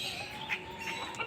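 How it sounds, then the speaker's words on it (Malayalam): Quail in a home backyard kept alongside black-feathered country chickens, giving a few short, faint chirping calls spaced irregularly over steady outdoor ambience, with no one talking. "കാടക്കോഴിയുണ്ട്."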